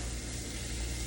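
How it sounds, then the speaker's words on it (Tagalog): Onion frying in a little olive oil in a pan, giving a steady close hiss with no pauses and nobody talking. "Onion at saka olive oil."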